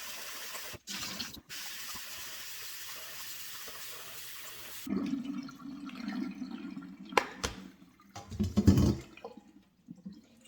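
Water running and splashing while eru vegetable leaves are washed in a silver bowl, a steady tap-like rush at first, then sloshing and swishing with louder bursts near the end, close and with no talking.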